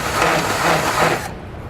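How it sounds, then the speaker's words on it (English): A grinding bit works one edge of a hole in the frame of a 2015 Ford Escape. It gives a steady, close, loud whirring grind for about a second before it cuts off to a quieter hum. "What I'm going to use is a grinding bit. I'm just going to grind one edge of it."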